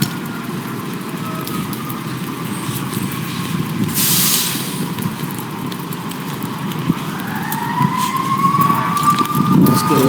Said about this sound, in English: Sounds like a fire engine.